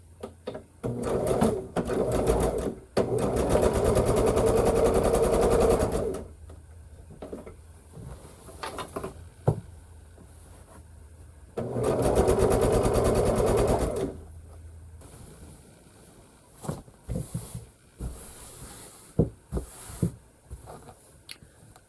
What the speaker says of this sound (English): I am going to back stitch at the beginning and end of this.